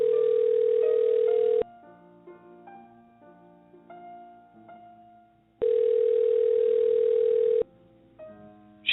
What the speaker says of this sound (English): It's dialing now.